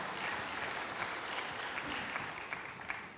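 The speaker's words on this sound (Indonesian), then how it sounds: "berikan tepuk tangan bagi Tuhan." Congregational applause during a church sermon, praising God, a continuous, even patter of many hands with a few sharper claps standing out, moderately loud and unbroken by speech.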